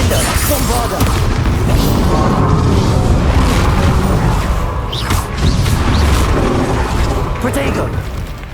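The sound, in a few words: Confringo and Bombarda spell explosions in the video game Hogwarts Legacy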